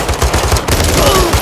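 Rapid automatic gunfire in the Call of Duty: Modern Warfare 3 video game, loud close bursts of shots fired in quick succession over a short moment.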